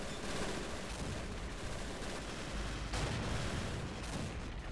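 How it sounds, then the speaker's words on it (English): Heavy anti-tank guns firing nonstop in a Men of War: Assault Squad 2 battle around a fortress, a dense, loud barrage of overlapping shots and booms with a few sharper blasts standing out. "It's a constant non-stop firing of all these heavy AT guns."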